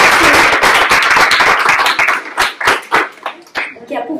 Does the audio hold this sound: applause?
yes